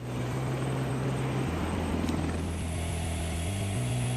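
A Sikorsky CH-53K heavy-lift helicopter of the US Marine Corps drones steadily with a loud, continuous low rotor and engine roar, its pitch shifting slightly partway through.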